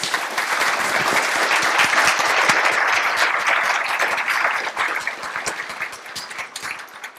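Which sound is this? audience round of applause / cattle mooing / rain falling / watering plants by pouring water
audience round of applause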